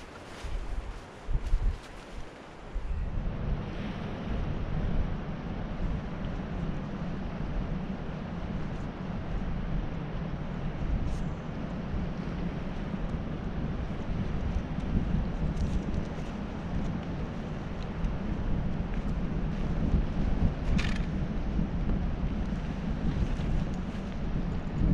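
Strong wind buffets the microphone at a small coastal fishing camp during stormy weather and high tide, a loud continuous roaring rumble that holds steady after a brief quieter start, with no voices.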